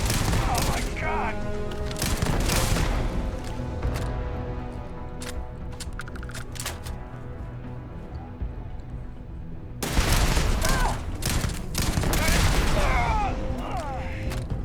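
Sustained bursts of gunfire ring out inside a spaceship in Starfield, dense and loud with echoing clatter, easing off briefly before another heavy volley erupts.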